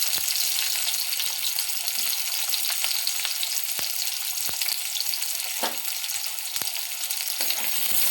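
Onion and chopped tomato fry in a pan with a dense, steady sizzle and crackle, broken by occasional sharp pops and a brief stirring scrape, close and constant throughout.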